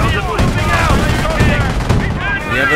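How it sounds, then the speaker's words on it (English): Heavy machine gun fire rattles through a Company of Heroes battle, a loud, dense stream of bursts mixed with explosions and other gunfire. Soldiers shout over the shooting throughout. "Infantry contact! They're using heavy machine guns."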